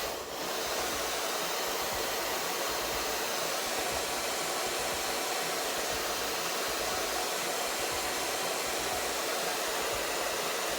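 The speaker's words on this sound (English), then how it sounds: "And of course you just blow dry." A hair dryer blow-drying a lace wig runs steadily and loudly throughout, a constant close whooshing roar with no pauses.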